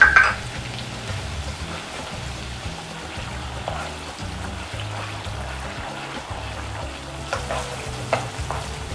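Dried chillies, chili sauce and ketchup fry in hot oil in a pan, giving a steady soft crackling sizzle like light rain, with a few louder pops and stirring scrapes along the way.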